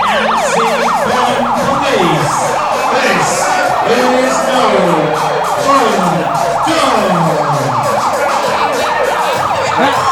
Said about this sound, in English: Siren is just so nauseating. Very, very obnoxious.